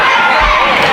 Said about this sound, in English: Crowd getting behind Josh King with the chance of USA